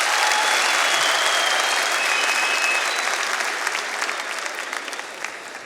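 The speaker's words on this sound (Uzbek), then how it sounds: "Butun zal qarsak chalishini qarang." A full concert hall audience applauds in a dense, continuous wave of clapping that gradually tapers toward the end, with no talk over it.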